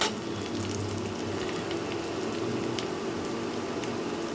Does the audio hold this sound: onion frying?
yes